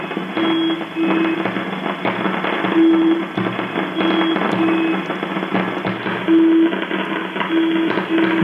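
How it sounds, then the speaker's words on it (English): Irregular crackling static pulses from distant thunderstorms snap over a constant VLF radio hiss, received on a software defined radio with a mini whip active antenna, with faint steady tones coming and going in the background. "pulse noises you can hear are from thunderstorms around this area"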